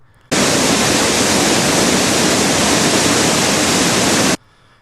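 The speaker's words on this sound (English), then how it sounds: "That waterfall is freaking loud." A loud, roaring rush of a waterfall in the film The Curse of Blanchard Hill switches on suddenly, holds at full, even intensity for about four seconds, then stops abruptly.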